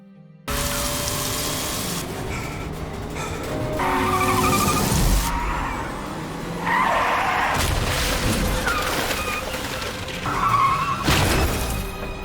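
Tires squeal and skid repeatedly as a car flees in a movie chase scene, loud bursts of screeching over engine roar with crashing, shattering impacts between them, no talk.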